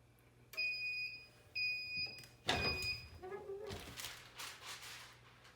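A heat press timer going off during shirt making with a vinyl cutter: several loud, shrill electronic beeps in quick bursts, then a clunk and rustling handling noises.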